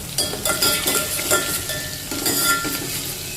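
Asafoetida dropped into hot oil while cooking potatoes for a potato bhaji, giving a crackling sizzle mixed with clinks of a spoon stirring against the pan, close and alone without voices.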